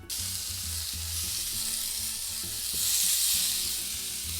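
Zucchini slices sizzle steadily on a hot grill pan over medium-high heat, a loud continuous frying hiss that swells slightly midway, with faint low clatter beneath.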